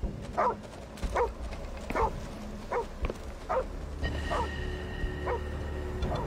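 Dogs in a video game barking repeatedly in short, evenly spaced yips over a low game background, with a faint electronic tone near the end.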